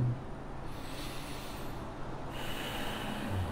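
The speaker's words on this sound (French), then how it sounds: "Vous pouvez faire comme moi, prendre une grande respiration." A single slow, deep breath drawn in and let out during a guided relaxation session, soft and close with a gentle airy rush that swells and fades, alone in a quiet room.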